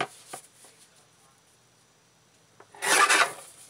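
Card stock being cut to size with a few faint scrapes and taps early on, then a brief louder rasping cut near the end in a quiet craft room.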